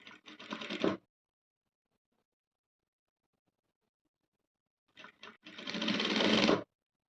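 A sewing machine stitches a Chinese collar blouse in two short bursts of rapid clatter, about a second and then a second and a half long, with near silence in between.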